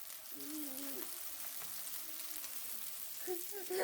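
Meatballs browning in a pan on low heat give a soft, steady sizzle and faint crackle that carries through the whole stretch, with a few brief tonal squeaks near the start and end.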